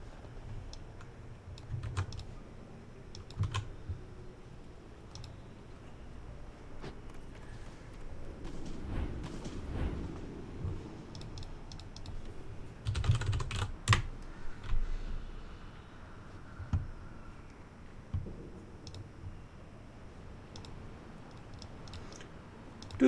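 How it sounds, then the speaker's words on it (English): Clicking keystrokes on a mechanical computer keyboard, irregular bursts of sharp taps close to the microphone over a low background hum, with no talking. "You should be able to hear clicking, because that's my mechanical keyboard."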